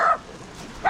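A dog gives two short, close barks, one at the start and one at the end, with a quiet pause between them.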